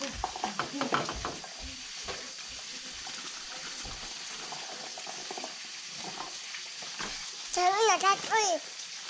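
Scraping and stirring in a pan with a soft sizzle underneath, occasional clatter, and a voice chiming in near the end.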